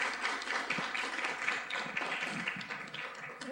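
Scattered, fairly soft applause from a lecture audience greeting industrial designer Roberto González as the first speaker of a conference series, light uneven claps lasting a few seconds.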